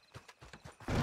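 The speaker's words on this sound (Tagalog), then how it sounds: "Ang mga kabayo to." Horse hooves clip-clopping in Red Dead Redemption 2, five or six quick distinct hoof strikes at a walking rhythm, close and clear, ending in a louder burst of noise.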